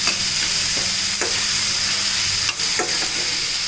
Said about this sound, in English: So we will just fry for a few minutes till they turn at least soft and pink.